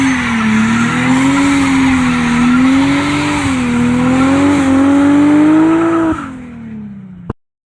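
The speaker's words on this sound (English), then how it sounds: "Went well, still slow, still rear wheel drive, and I just did a burnout." A rear-wheel-drive Nissan Skyline R32 GTR with an R35 coil conversion holds a loud, steady burnout, engine droning at high revs with a sustained tire squeal, then the revs drop and it cuts off abruptly near the end.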